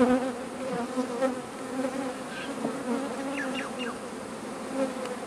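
A steady, dense buzzing of many honey bees fills the scene, close and continuous, with a few sharper wingbeat whines passing near.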